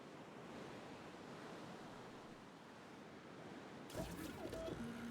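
Steady rushing water noise from cascading waterfalls in the park-building game Jurassic World Evolution 3, a broad continuous wash, with a tonal game sound entering near the end.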